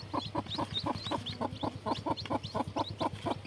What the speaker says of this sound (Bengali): মুরগির বাচ্চা আবার ডাক।